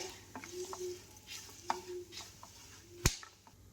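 Roasted poha being mixed into a dry fruit chevda in a pan for Diwali, giving soft scraping stirs with a few sharp clinks of the spoon against the metal, one louder knock near the end.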